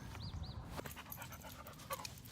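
A dog pants softly in a rural homestead yard, quick breaths running steadily under faint outdoor background noise, with no one speaking.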